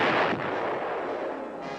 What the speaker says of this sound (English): 155mm howitzer.